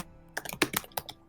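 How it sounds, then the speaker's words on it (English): Keys clatter on a computer keyboard in a quick, uneven burst of close, crisp taps, several strokes in rapid succession after a brief quiet start. "Sorry, the noise of keys."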